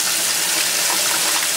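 Loud, steady rush of cold tap water pouring continuously into a sink as vegetables from a balcony garden are rinsed, close up with no talking.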